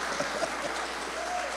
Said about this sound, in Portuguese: é para aplaudir de pé